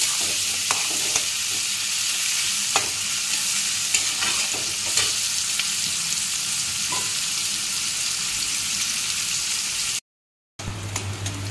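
Onions frying in a pan for a red chicken curry, a steady loud sizzle with occasional scraping stirs, briefly cut to silence near the end before resuming.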